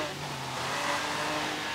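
A 2011 Lamborghini Gallardo LP 570-4 Superleggera accelerating on a street race in Forza Horizon 3, a faint steady engine drone with tire noise, fairly quiet and continuous.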